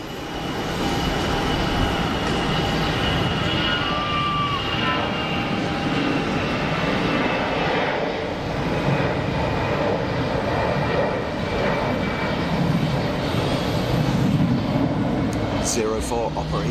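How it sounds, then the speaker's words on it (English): Airliner departing Geneva Airport, a broad steady roar of jet engine noise sustained throughout at fairly constant loudness, with a voice talking over it. "There we go, first departure for the stream today."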